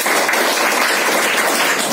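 An audience at a motivational speech applauds, a dense, loud patter of many hands clapping steadily throughout.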